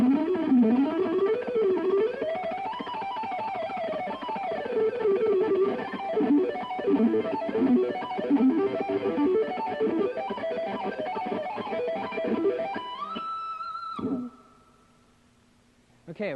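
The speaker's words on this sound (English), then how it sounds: "I'm going to start off with a little ascending riff" A distorted electric guitar climbs through a fast ascending harmonic minor riff, a dense stream of notes ending in a held, wavering note, then a short pause and a brief pick noise at the end.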